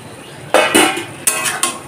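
A spatula stirs potatoes and pointed gourd in a pan for a vegetarian aloo potol curry. Four or five close scraping, clattering strokes sound against the metal with short pauses between them, and no one speaks.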